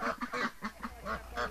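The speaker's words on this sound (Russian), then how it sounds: "утки и гуси из водоплавающей птицы превратились в сухопутную" Geese honk in a village yard, a close burst of several nasal calls in quick uneven succession with no talking over them.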